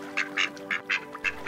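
A cartoon duckling on a lake quacks five times in quick, evenly spaced bursts, loud and close against a faint tonal hum, with no talking.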